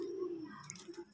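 A large-winged racing pigeon gives a soft, brief coo, faint and close in a quiet setting with no talk.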